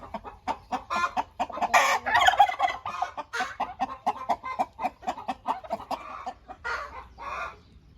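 Faverolles hens cluck and chatter close by in a busy, overlapping stream of short calls, loud and without people talking.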